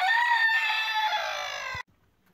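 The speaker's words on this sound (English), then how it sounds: "this is my little Broody Silkie" A broody Silkie hen on a smallholding gives a loud, close, drawn-out harmonic call that cuts off abruptly after about two seconds.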